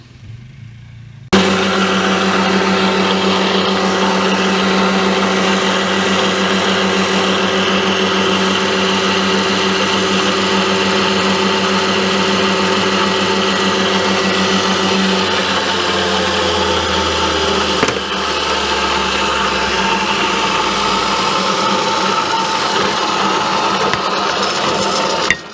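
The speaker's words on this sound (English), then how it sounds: "So I'll get you over at the mill and we'll go ahead and pop some holes." A milling machine drilling holes runs with a loud, steady motor whine and hum. The tone shifts slightly partway through as the cut changes, with no voices.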